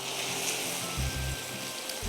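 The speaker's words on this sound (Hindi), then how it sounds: "कैरेमल में जब भी पानी डालते हैं इस तरह हो जाती है" Water poured into hot caramel in a home kitchen, giving a fierce hissing, bubbling sizzle that rumbles on close up, with a few deeper gurgling bursts.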